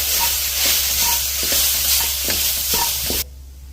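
A spoon stirs a mixture of mustard seeds and urad dal cooking on a low flame, scraping in regular strokes over a steady gentle sizzle that cuts off abruptly near the end.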